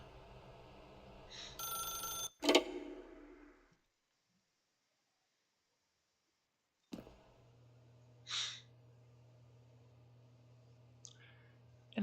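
Telephone bell ringing in short bursts, a trill followed by silence, then further fainter rings with clicks, close and alone without talk.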